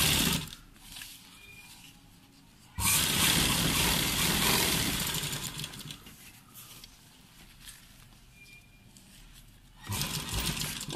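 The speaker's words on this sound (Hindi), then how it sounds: "मैं थोड़ी थोड़ी सिलाई लगा के आपको दिखा रही हूँ" A sewing machine stitches a folded shirt collar in two loud bursts, the first running about seven seconds and a second starting near the end, with quieter gaps between them and no talk.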